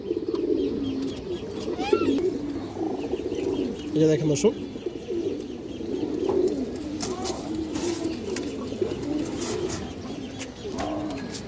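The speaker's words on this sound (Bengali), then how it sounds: "একদম পুরোনো লাইনের একটা গররা মাদি কবুতর" A Gorra female pigeon of an old line gives soft, repeated low coos, fairly close, while someone talks over them almost the whole time.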